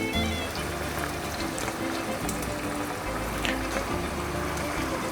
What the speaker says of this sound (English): I like also to put in some water